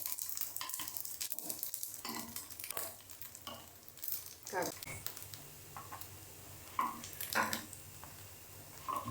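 Sabudana appe frying in a little oil in an appe pan, a soft crackling sizzle with intermittent scraping and turning clicks, quiet and close, under someone speaking.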